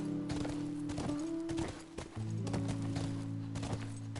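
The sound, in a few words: horse hooves clip-clopping in the video game The Last of Us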